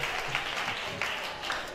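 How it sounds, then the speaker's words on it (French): Audience applause following a violin performance at a violin competition semi-final, a steady dense wash of clapping from a crowd throughout, moderately loud and continuous. "Caleb Douté, qu'on applaudit encore très fort, s'il vous plaît."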